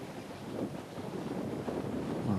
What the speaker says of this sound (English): now you can see the problem with the wind